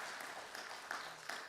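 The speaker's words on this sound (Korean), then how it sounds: "우리 다시 한번 박수로" A church congregation at an early morning revival service claps steadily, a dense, moderately distant applause sustained throughout with no clear voice over it.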